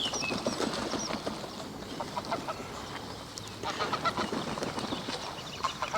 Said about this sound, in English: Geese are messing around still over there.